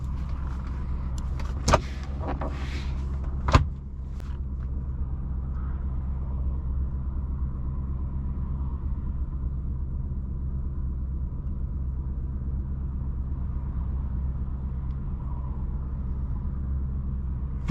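A 2006 Maserati Quattroporte M139 engine hums at a low, steady drone from inside the cabin while driving, with a couple of sharp clicks and a thump early on before the smooth rumble continues.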